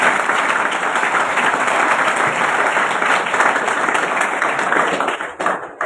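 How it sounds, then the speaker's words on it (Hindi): An audience breaks into steady, dense applause that holds for several seconds before tapering off near the end, with little voice audible. "अब बजा सकते हो ताली आप।"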